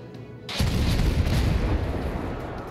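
Warship main guns firing in World of Warships: a single heavy booming blast erupts after a brief quiet moment and rolls on as a long, loud rumbling decay.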